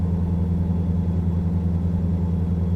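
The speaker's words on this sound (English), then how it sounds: "That engine sound is angry." A Volvo car engine in a racing video game hums with a steady, deep, gruff drone, holding an even idle-like tone throughout with no talk over it.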